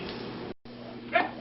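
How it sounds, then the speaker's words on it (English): Dogs outdoors give a short yip and bark at a distance, quiet and brief over faint background hum, with a short dropout in the middle. "The dogs are really entertained out there, I can tell."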